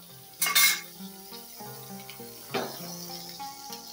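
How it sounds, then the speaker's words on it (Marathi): Ghee added to a hot pan for banana sheera, a brief sizzling hiss at the start with a second softer burst later, heard over a tonal background hum. "पॅन आपला हा गरम झालेला आहे, यामध्ये तूप टाकूया।"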